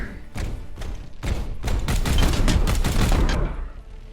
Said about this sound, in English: It's a crack grenade.